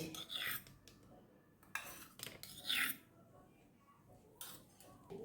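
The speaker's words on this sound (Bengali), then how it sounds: "এইভাবে গুলে নিলাম ময়দা আর ঘিয়েতে" Flour and ghee mixed in a bowl with a spoon, a series of quiet scraping and clinking strokes in uneven bursts, close but faint.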